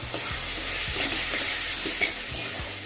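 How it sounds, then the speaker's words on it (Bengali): Potatoes sautéing and frying in a pan, with steady close sizzling and intermittent stirring scrapes and clinks of a utensil against the pan. "তো কষা হচ্ছে, হয়ে যাবে আলু ফ্রাইড, ফ্রাইড আলু"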